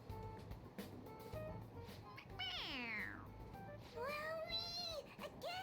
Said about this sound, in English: It meows when you press on its head.